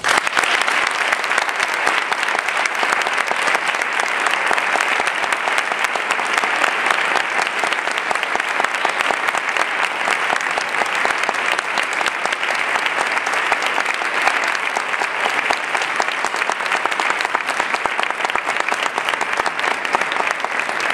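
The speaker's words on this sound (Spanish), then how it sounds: "Guárdense los aplausos para Rosa Díez" Sustained, dense applause from a crowd at a UPyD political rally in Andalusia, a loud even roar of clapping that holds steady throughout with no speech over it.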